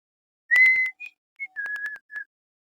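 A person whistles a short tune of several clear, pure notes in bursts separated by brief pauses, close and alone in an otherwise silent room at a county commission meeting.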